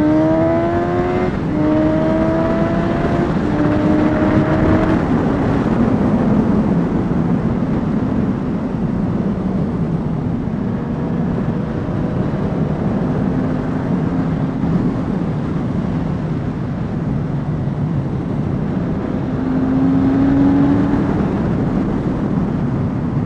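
Suzuki GSX-S750 sports motorcycle on a Sunday ride, a steady engine drone with rising and falling gear-change sweeps under heavy wind rush, continuous and close, with no talking.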